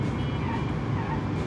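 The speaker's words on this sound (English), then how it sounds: "Car sounds very quiet" Quiet, steady engine drone from a carbon-fibre hatchback in a racing video game, a low continuous hum with no change in pitch.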